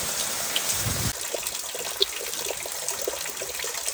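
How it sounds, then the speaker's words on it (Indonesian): Rain falls in a steady wash of watery hiss, with a few louder drips and splashes standing out against the continuous patter. "hujan euy"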